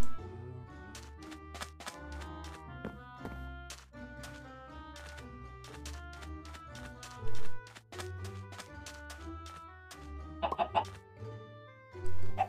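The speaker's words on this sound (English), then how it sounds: "Chicken." Repeated chicken clucks from Minecraft, short broken calls rising every second or so over steady background music, with a few louder bursts near the end.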